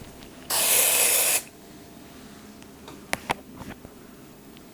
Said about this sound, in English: I think I just sprayed the roots of my hair